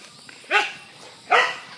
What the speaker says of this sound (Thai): มันเห่านะครับผม